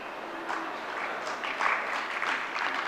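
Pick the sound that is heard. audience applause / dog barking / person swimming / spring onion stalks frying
audience applause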